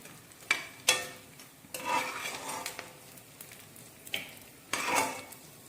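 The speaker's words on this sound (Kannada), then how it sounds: "ಇದನ್ನು ಒಂದು ಹದಿನೈದು ಇಪ್ಪತ್ತು ಪೀಸ್ ಅಂಟನ್ನು ಬಿಸಿ ತುಪ್ಪದಲ್ಲಿ ಹಾಕಿ ಕಡಿಮೆ ಉರಿಯಲ್ಲಿ ಹುರಿದುಕೊಳ್ಳೋಣ" Edible gum pieces frying in hot ghee in a pan over a low flame, soft intermittent bursts of sizzling and bubbling with a few sharp clinks of a utensil against the pan, close and quiet between bursts.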